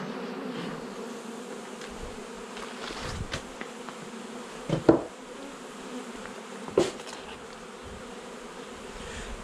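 Honeybees buzzing during a beehive inspection, a soft, steady drone with a few louder close passes and light knocks of hive parts, and no voices.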